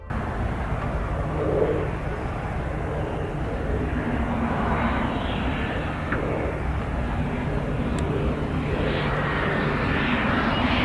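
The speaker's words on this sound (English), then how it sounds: "During its landing approach in Africa, this plane came dangerously close to striking an Impala." An airplane on its landing approach in Africa roars with a loud, continuous broadband engine and rushing-air noise that holds steady and close throughout.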